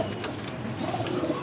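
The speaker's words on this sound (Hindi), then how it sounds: "ये देखें खड़ी तख्ती के कबूतर है माशाल्लाह" Soft, throaty cooing of pigeons for sale repeating over a low background murmur, close by.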